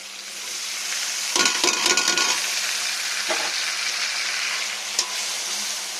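Taro stems and shrimp drop into a hot frying pan for a radish-greens fry, setting off a steady close sizzle with a burst of stirring and scraping clatter in the middle, then continuous frying hiss.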